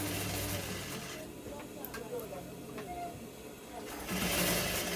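Sewing machine stitching fabric for a corset gown, a steady whirring hum with a mechanical rhythm that eases mid-clip and picks up again near the end, close by.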